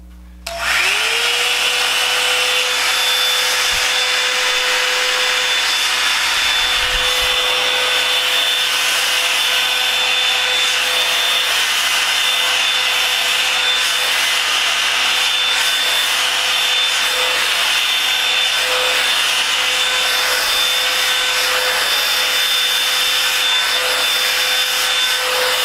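A Revlon blow-drying brush runs steadily on its high setting while styling thick type 4 natural hair, a loud, even motor whine and airy rush starting abruptly and holding constant throughout.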